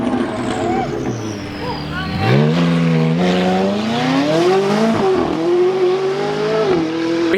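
A Koenigsegg sports car engine revs loudly and rises in pitch, holding a strong roaring tone with a quick drop and rev again near the end.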